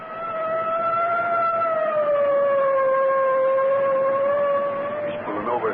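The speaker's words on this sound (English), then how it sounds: "I guess it's time to sound the siren." A police car siren in an old-time radio drama, a loud steady wail holding a sustained tone for several seconds before breaking off, with faint background noise beneath.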